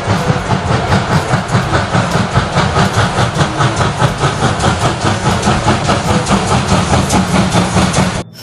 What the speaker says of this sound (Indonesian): ini kereta api uap.